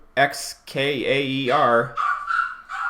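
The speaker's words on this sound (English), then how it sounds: "and the dog's barking" A nearby dog barks and whimpers in a few loud, drawn-out, yelping bursts with short pauses between them.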